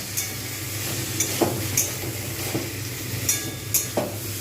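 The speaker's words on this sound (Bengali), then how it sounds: "জাস্ট আমি অল্প করে ভেজে নেব" Ground coriander and cumin sizzle briefly in hot oil in a pan, a steady close crackling hiss with a few sharp scrapes from stirring scattered throughout.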